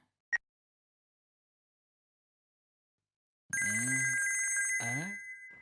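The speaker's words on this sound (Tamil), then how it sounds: "யார் ஃபோன் பண்றாங்கன்னு தெரியலையே." A telephone rings in a Tamil TV serial scene: after a short click and near silence, a loud, steady electronic ringtone begins about midway and keeps ringing to the end with a brief dip.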